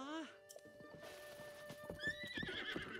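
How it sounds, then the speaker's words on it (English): A horse in the Zelda: Breath of the Wild video game gives a loud whinny, followed by a run of clip-clopping hooves at a steady pace over faint background game sound. "Let's take my horse for now."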